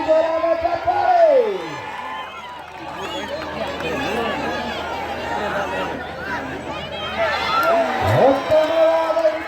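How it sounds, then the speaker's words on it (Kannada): A crowd at a kabaddi semi-final between Haryana and Haveri district keeps up a steady roar of chatter and scattered whoops, with a loud commentator's voice talking over it throughout. "ಬರಲಿ ಜೋರಾದ ಚಪ್ಪಾಳೆ"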